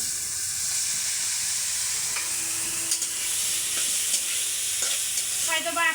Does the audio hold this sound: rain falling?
no